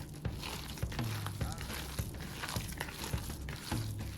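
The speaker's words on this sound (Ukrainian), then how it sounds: "Тепер ми з вами його перемішаємо" A spoon stirs a mazurky mixture of traditional Ukrainian batter in a pan, giving irregular soft scrapes and wet clicks close by, roughly twice a second, with faint background noise.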